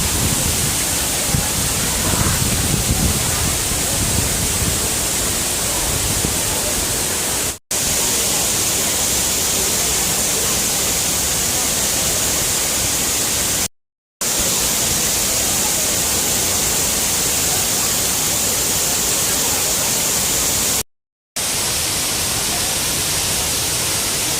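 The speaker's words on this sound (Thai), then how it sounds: "นี่ครับ น้ำตก คลองลานจังหวัดกำแพงเพชรครับ" Khlong Lan waterfall in Kamphaeng Phet during heavy rain, a loud, unbroken roar of rushing, crashing water heard close up, hissing and constant, with brief cuts in the sound.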